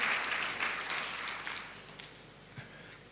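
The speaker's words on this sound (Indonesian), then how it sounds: "Tepuk tangan sekali lagi untuk Tuhan Yesus." A church congregation claps at a Sunday service, a fading burst of applause that tapers off over a few seconds with no voices over it.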